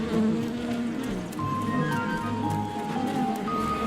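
Computer-generated bees buzzing in a Christmas movie, a steady insect drone with thin wavering tones drifting over a low background bed, fairly faint and continuous without speech.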